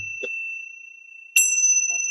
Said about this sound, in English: These are actually Tibetan bells, so they're probably way too loud.